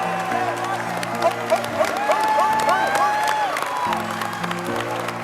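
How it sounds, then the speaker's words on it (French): A studio audience applauds and cheers for the winner at the finale of a cooking competition show, with sustained clapping and whoops mixed with some voices over a musical bed. "Mesdames et messieurs, applaudissez bien fort notre gagnant, Alex."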